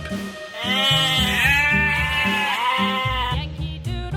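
Sheep bleat in a continuous, wavering, nasal call lasting several seconds, loud and close, with no talking over it.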